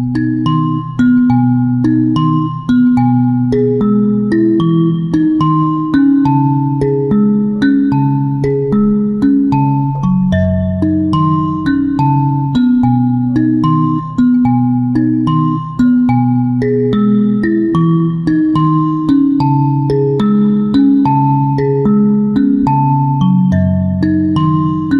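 Mbira played with a repeating rhythmic pattern, left thumb plucking bass octaves under bright metallic tines, a steady cycling melody that is close and clear with no talking.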